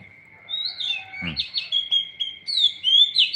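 Several birds chirp and twitter in quick, overlapping calls over a steady high whine, with a brief low thump partway through.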